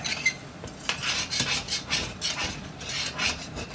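A spatula scrapes repeatedly across the bottom of a pan of Salisbury steak drippings, close and rhythmic, in quick rasping strokes with light metallic clinks.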